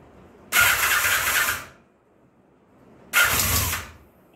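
A Nighthawk parts motorcycle that has sat unused is cranked on full choke. Two loud, separate bursts of starter whirring are heard, each about a second long, and the engine does not catch.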